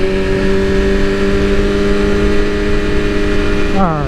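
A BMW S1000RR sportbike's engine drones loud and steady close to the mic while riding, its pitch holding level before dropping away at the very end.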